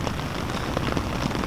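Steady rain falls on a tent at night, a dense, continuous patter of drops on the fabric, close and even throughout with no voices.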